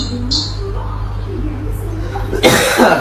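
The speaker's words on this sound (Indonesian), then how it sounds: "Batuk anjing." A person gives a single harsh, close cough near the end over a steady low hum in a room.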